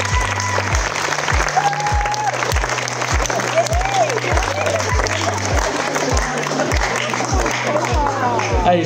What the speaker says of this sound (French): On peut l'applaudir, on peut les applaudir.